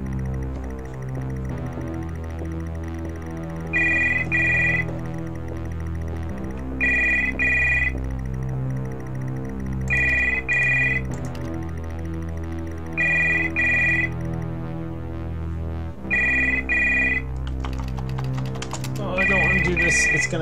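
A telephone in the indie horror game The House Abandon rings in repeated electronic double bursts under a steady low game drone, with pauses between rings and a person talking now and then.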